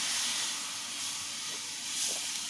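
Cold milk poured into a pan of hot semolina for halwa, giving a continuous loud hiss and sizzle that holds steady for a few seconds with slight surges.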